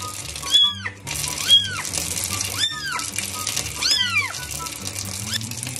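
Kittens meow repeatedly, several clear, rising-and-falling cries close by, over a low background of running water.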